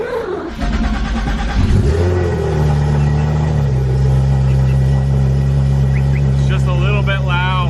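A car engine runs steadily and a little loud, with a close, constant low rumble that holds throughout after a brief rise near the start.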